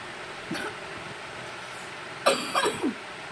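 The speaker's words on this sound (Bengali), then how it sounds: "কিন্তু খেতে পারছে না, এত কাশি হচ্ছে" Coughing: one short cough, then a quick cluster of three harsh coughs, fairly close, against quiet room noise.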